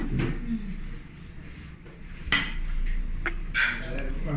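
Sauce for a crispy chicken burger being mixed in a bowl with mustard and tomato sauce, scattered spoon clinks and scrapes against the bowl with a few sharper taps, over faint background noise.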